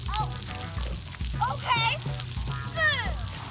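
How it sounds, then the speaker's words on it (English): Water sprays and splashes steadily at an outdoor splash pad on Father's Day, with children's voices and an adult talking over the continuous rush. "But we are having a fun time here at the splash pad."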